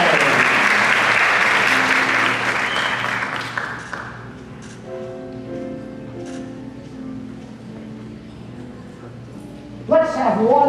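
Audience applause at a dairy festival pageant in a school auditorium, a dense burst of clapping that fades after about four seconds, followed by quieter room sounds and a brief renewed flutter near the end.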